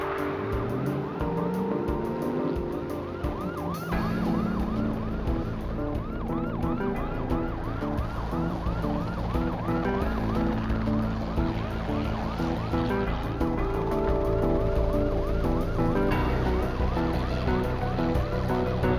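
Police cruiser sirens wail continuously during a high-speed chase after a fleeing truck, a steady, loud cycling siren over road and engine noise, accompanied by a helicopter, with no talking.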